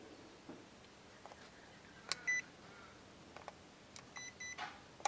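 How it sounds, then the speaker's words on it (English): JJRC Elfie drone and its handheld controller beeping as they connect: a few faint, short electronic beeps and chirps in a quiet room, spaced irregularly with soft handling clicks between them. "A little bit of beep, so they're connected."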